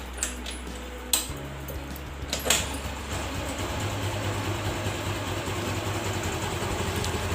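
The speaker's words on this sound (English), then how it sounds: "Let's start the engine." A TVS Jupiter scooter engine, warm after a ride, cranks with a couple of clicks and catches, then settles into a steady low idle hum that runs on close by without pause.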